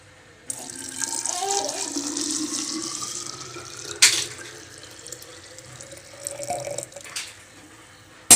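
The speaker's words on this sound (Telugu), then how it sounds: "ఇప్పుడు బాబు హాట్ వాటర్ అయితే ఇందులో వేసేస్తాను" Hot water runs and splashes steadily into a container, with a brief clatter partway through and a clunk at the end; no one speaks.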